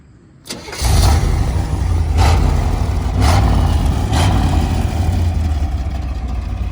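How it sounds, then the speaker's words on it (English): A stock 1972 Chevrolet Corvette's big-block 454 V8 (LS5) cranks and roars to life, then settles into a loud, rumbling idle with a few throttle blips. "This car is all stock, so you can definitely hear that it's got a big block"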